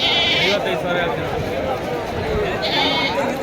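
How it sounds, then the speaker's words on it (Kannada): Sheep and goats bleating at a crowded livestock market, several loud, close bleats standing out over a dense murmur of people talking and general market noise. "ಕ್ಯಾಸಂದ್ರ ಬಟವಾಡಿ ಸಂತೆ ಮರಿ ಬಕ್ರೀದ್ ಹಬ್ಬಕ್ಕೆ ರೆಡಿಯಾಗಿದ್ದಾವೆ"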